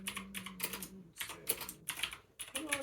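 Bursts of keyboard typing in quick clustered runs with short pauses between, fairly close and moderately loud, with no voice over them.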